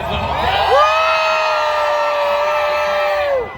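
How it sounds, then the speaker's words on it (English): Grandstand spectators at the 2025 Silverstone Grand Prix raise a loud, sustained roar of cheering and whooping, holding steady for several seconds before dropping away at the end. "So, Max Verstappen fans, start cheering"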